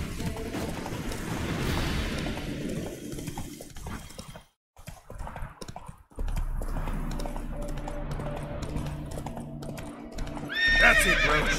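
Roach, a horse in The Witcher 3: Wild Hunt, clip-clops along with rhythmic hoofbeats and lets out whinnies, with a brief near-silent gap midway and faint mechanical clanks underneath.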